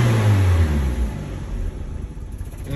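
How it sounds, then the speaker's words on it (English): A stage one turbocharged Mazda Miata, a Flying Miata build, heard from inside the car as its engine rises on a light blip of throttle, then sags back toward a rough, uneven idle. "I'll just give it a little bit of throttle."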